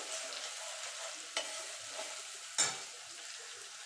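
Spiced whisked yogurt being mixed into a potato curry in a pan, with two brief spoon scrapes over a faint, steady sizzle.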